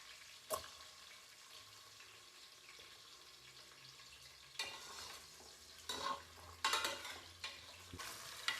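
Potatoes are added to a pan and fry with a soft sizzle as a spoon scrapes and stirs them in short bursts. The stirring grows more frequent toward the end, close and fairly quiet.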